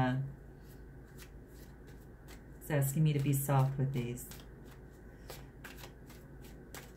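Soft, continuous tarot card shuffling with light riffling flicks runs throughout, while someone speaks briefly in the middle.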